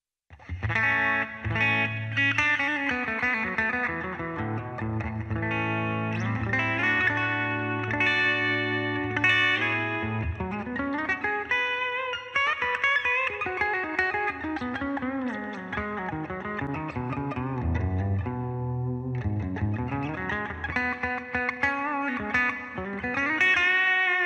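A Gibson electric guitar is played with clean tones, ringing notes and chords sounding close and clear with sustained overlapping harmonics, played alone without speech.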